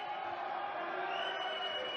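Crowd noise at a European Darts Matchplay arena, a broad steady roar of many voices cheering and chattering at a distance, continuous and even for the whole stretch.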